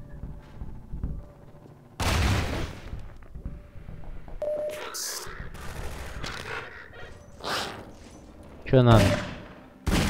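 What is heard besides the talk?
magnum revolver gunshots in the video game Half-Life 2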